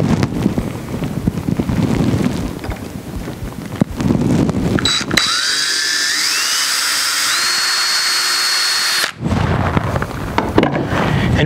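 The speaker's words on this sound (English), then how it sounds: "I'm going to take my drill and I'm gonna do just one" A power drill bores a hole through the gunwale of a Bonafide SS127 kayak, with a steady high whine lasting several seconds and rising in pitch, set between stretches of outdoor wind noise.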